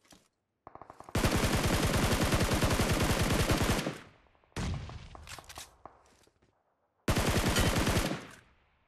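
Automatic gunfire in the PUBG Mobile video game: loud, rapid sustained bursts, one long spray followed by two shorter volleys, with brief silences and a few single shots between.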